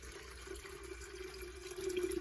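Water pours steadily from a tap or jug into an electric urn water heater, a soft, continuous trickle and splash that grows slightly louder toward the end.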